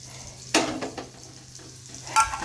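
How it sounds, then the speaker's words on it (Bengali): Bitter gourd frying in a pan makes a low background sizzle, broken by two sharp bursts of stirring or spatula scraping, one early and one near the end, with no speech. "এখানে হচ্ছে উচ্ছে ভাজা"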